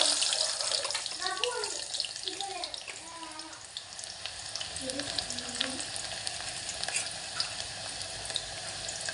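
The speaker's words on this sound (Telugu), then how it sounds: "సో ఆయిల్ వేడయ్యాక మనం నెక్స్ట్ ఆనియన్ వేసుకోండి." Onions sizzle in hot oil for chicken curry, a dense continuous frying hiss close up, with faint tonal chirps and clinks scattered over it.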